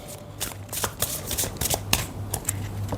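Tarot cards are shuffled close up in a run of quick riffling bursts and soft slaps, with a low hum underneath.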